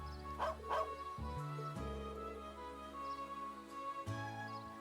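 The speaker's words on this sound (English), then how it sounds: "Woof, woof." Small dog character Pedo in the video game Trails of Cold Steel gives a few quick yipping barks over soft background game music, with a short bark cluster near the start.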